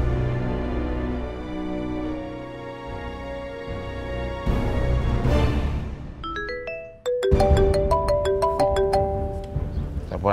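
A mobile phone rings in an Indonesian TV drama scene, playing a melodic ringtone that grows into a run of bright, chiming notes, loud and close with no talk over it.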